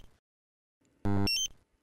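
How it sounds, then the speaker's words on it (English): A short burst of loud, harmonically rich electronic beeping from a Dräger X-am 2500 gas detector's A1 alarm, a rapid alarm tone lasting about half a second after near silence. "The A1 alarm sounds if the concentration is higher than normal"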